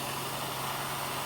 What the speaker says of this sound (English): We got our little blue flame going on